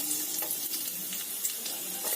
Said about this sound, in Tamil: ஆயில் சூடாயிருச்சு. பூண்டு போட்டுக்கலாம்